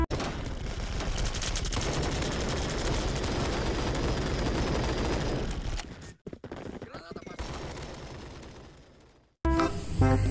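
Rapid bursts of toy gunfire crackle continuously for several seconds, then break off into a few scattered shots before a short final burst.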